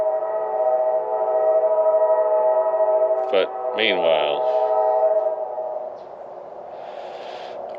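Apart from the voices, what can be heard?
passing train sounding its horn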